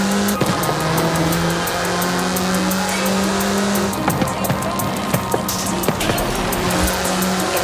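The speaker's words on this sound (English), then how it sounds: "Get some speed, then turn into the countryside. Really see what this car can do." Car driving at speed in Forza Horizon 5, a continuous loud engine drone with shifting pitch and sharp tire and road clicks throughout, no voices.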